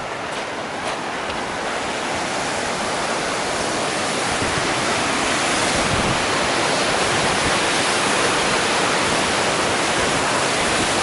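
A swollen creek rushes beneath a footbridge on a Grand Canyon trail. The water makes a loud, steady, close roar of broadband noise that continues without a break.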